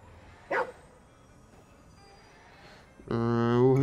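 A dog in the video game Ghostwire: Tokyo gives a short bark, then another louder bark-like call follows, with game ambience between.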